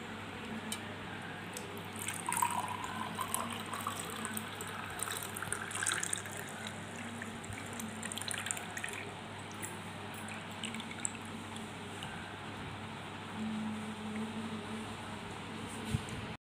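Ground lemon and mint sharbat strained through a sieve gives a steady, soft trickle and splash of liquid that runs continuously, with no talking.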